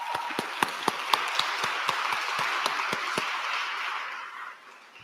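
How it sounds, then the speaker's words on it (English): An audience applauds at an advocacy day event to end sexual violence, with steady, dense clapping and a few sharp, louder claps standing out. The clapping fades out near the end. "let's give you a round of applause"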